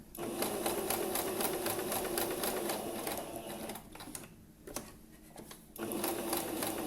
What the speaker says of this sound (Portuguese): deixa a agulha dentro da máquina e começa a outra parte